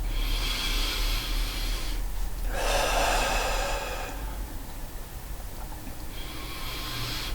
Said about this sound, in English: start with taking a few deep breaths